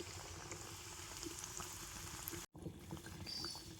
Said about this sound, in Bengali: তো একেবারে হালকা জাল দিয়ে পরোটাগুলো ভেজে নিতে হবে।